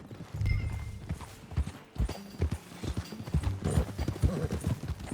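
Horse hooves clip-clop steadily as a rider travels in Red Dead Redemption 2, the rhythmic footfalls close and continuous over a low rumble, with a brief snort or whinny and no talk.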